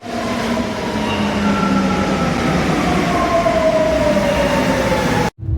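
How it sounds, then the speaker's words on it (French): Lyon metro train heard from inside a carriage, with a loud steady rumble and rising whining motor tones as it accelerates, then a brief sharp cut near the end. "On va prendre le métro et direction le bus pour Paris."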